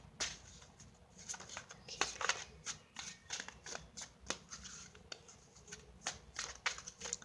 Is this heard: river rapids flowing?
no